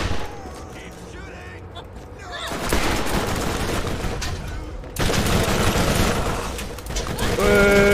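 Dense automatic gunfire rattles in the Borderlands shooter, loud sustained bursts building in waves and cutting off abruptly, with a player's voice talking over it.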